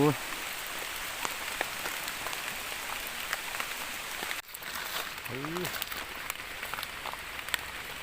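Rain falls steadily in a forest while mushrooms are being gathered, a soft continuous patter, with a voice speaking briefly over it.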